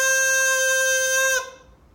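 A bassoon played with too much reed in the mouth holds a single sustained, bright, buzzy note for over a second before cutting off abruptly, leaving a short fading tail.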